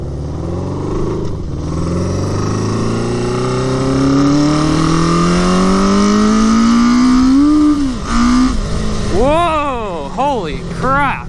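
Honda CB750 cafe racer motorcycle engine on a cold start, revving loudly and climbing steadily in pitch before dropping back, then a series of sharp rising-and-falling revs near the end, close to the microphone.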